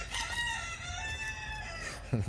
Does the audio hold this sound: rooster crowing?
yes